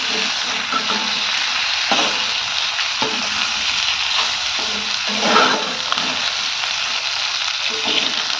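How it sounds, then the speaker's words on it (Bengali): Pointed gourd and prawns frying in a blackened wok, a steady loud sizzle running throughout with occasional scraping knocks of a spatula as the pieces are stirred. "এবারে একটু নেড়ে চেড়ে দেবো।"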